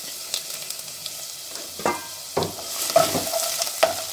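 Mustard seeds, curry leaves, ginger and garlic sauteing in hot oil, a steady close sizzle broken by several sharp spatters and stirring clatters, with no voices.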